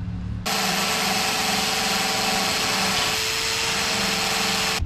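Power tool cutting out spot welds on the body of a Nissan Gloria under restoration, a loud continuous whirring grind that starts abruptly and holds steady for several seconds close by.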